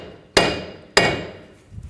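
Two loud metal hammer blows on the back side of a front wheel hub of a 2013-19 Ford Police Interceptor, about half a second apart, each with a short ringing decay, followed by a faint clatter.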